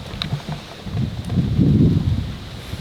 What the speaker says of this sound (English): There's nothing I love more than sitting under a big tree and listening to the wind.